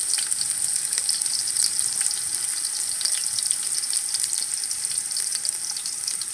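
Onions fry in a heavy cooking pot in an African village kitchen, giving a dense, even, loud sizzle that runs steadily throughout with faint crackles and no talk.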